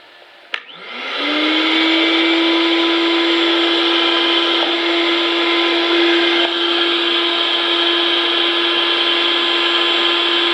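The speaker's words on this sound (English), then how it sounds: "I'm just going to blow off a lot of the dust from this." An air blower starts with a sharp click, then roars into a loud, steady whine, blowing dust off a steel cabinet being restored and holding one unbroken tone close up.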